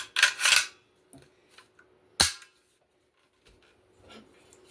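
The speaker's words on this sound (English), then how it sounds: "Dust cover slides into the sights, just like that." A steel dust cover slides onto a Molot Vepr Hunter 7.62x54r rifle, a close scraping metallic slide followed by a sharp click, then faint handling noises, no speech.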